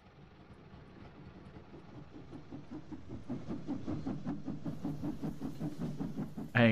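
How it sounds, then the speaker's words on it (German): Steam locomotive in Farming Simulator 19, chuffing in a steady rhythmic beat that grows louder and quicker over a hissing rumble, ending in a sudden loud burst. "Ein Krach macht die Dampflok."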